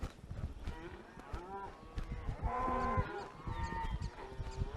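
Cattle lowing repeatedly as a herd is driven up a trail by riders on horseback, several drawn-out moos overlapping at close to middle distance over steady outdoor background noise.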